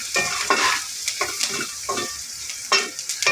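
Turmeric stirred into hot oil for a bottle gourd milk curry: loud crackling sizzle punctuated by repeated scraping strokes of a spoon against the pan, close and uneven.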